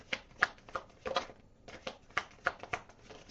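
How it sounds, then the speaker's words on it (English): Tarot cards being pulled out and handled for a reading, with quick soft shuffling and flicking bursts in an irregular rhythm, quiet and close. "Let's pull out the rest of the cards."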